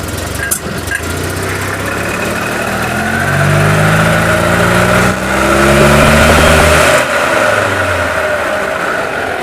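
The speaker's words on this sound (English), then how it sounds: "Still a noisy old transmission, isn't it?" An old Invacar's engine runs steadily with a noisy transmission, a loud close mechanical drone that swells for a few seconds and then settles back to a constant hum.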